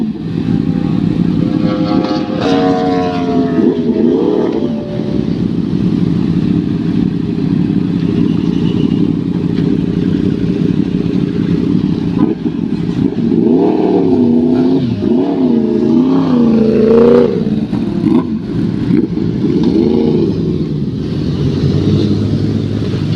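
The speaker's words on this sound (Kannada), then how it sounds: "ಎಲ್ಲ ಸ್ಟಾರ್ಟ್ ಮಾಡಿ ವಾರ್ಮ್ ಅಪ್ ಆಗೋಕ್ಕೆ ಬಿಟ್ಟಿದ್ದಾರೆ." Sport motorcycles, a Yamaha R1, a Kawasaki ZX10R and a Z900, sit idling together as they warm up. Their loud engines rumble without a break, and a few throttle blips rise and fall over the steady drone.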